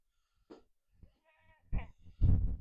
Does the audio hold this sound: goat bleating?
yes